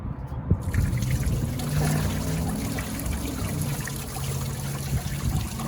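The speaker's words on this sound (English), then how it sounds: "now the water should come out of this hose" Water runs and trickles steadily out of a heater hose on a 2003 Nissan Altima 3.5 during a heater core flush, a continuous close splashing flow.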